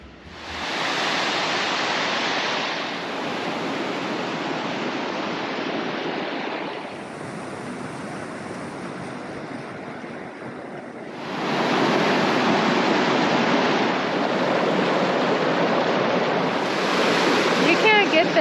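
Water rushes and crashes near the Zealand Hut in the White Mountains, a loud broadband wash that swells, eases for a few seconds, then surges back stronger and continues without any talking.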